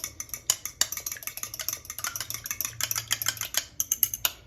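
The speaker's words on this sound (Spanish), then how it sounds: "vamos a preparar nuestro egg wash. So, básicamente un huevo, lo batimos" An egg being beaten by hand for egg wash, a rapid, steady run of light clicking and tapping strokes against a bowl, close and fairly quiet with no talking.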